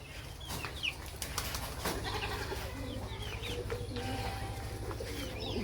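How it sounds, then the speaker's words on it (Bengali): Hens, roosters and ducks cluck and squawk while being fed, with repeated close calls, scattered wing flaps and a steady low background rumble throughout. "এই যে দেখেন আমার হাঁস মুরগি মোরগ সবাই আছে"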